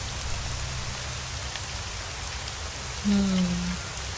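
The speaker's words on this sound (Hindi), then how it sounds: "एक रात बहुत तेज बारिश हो रही थी" Steady heavy rain patters down at night, a soft, even hiss filling the whole stretch, with a brief low tone rising near the end.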